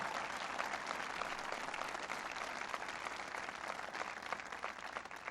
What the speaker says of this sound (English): please give Mark another round of applause for his hospitality.